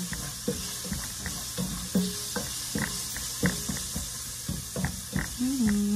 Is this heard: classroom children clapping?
no